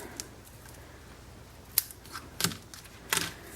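Scissors trimming adhesive paper for a handmade card: a few faint, sparse snips stand out against quiet room noise.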